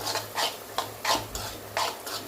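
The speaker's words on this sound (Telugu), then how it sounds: "ఈ విధంగా మొత్తాన్ని ఫ్రై చేసుకోవాలి" Goat brain frying in a pan with chili powder, heard as a few rhythmic bursts of scraping and stirring against the pan, close and moderately loud, with no talking.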